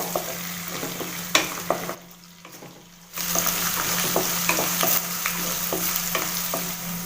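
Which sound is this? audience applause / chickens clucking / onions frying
onions frying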